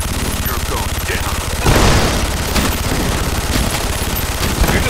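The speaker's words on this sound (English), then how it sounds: "Alright, now machine gun." Rapid, continuous machine gun fire in a jungle mission of the co-op shooter Narco Terror, loud and dense throughout, with a heavier burst near the middle.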